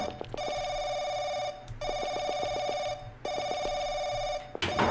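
A telephone in the horror RPG Paranoiac rings in three long electronic trilling bursts separated by short pauses, fairly loud and with nobody talking over it.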